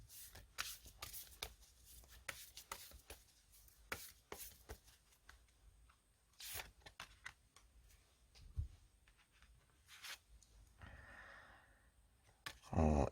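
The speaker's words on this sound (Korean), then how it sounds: "조언 카드 한 장 뽑아 보면은요" Tarot cards are shuffled and drawn by hand in a quiet room, giving a series of crisp, close riffling snaps and soft slides in irregular bursts, with a brief flurry near the end.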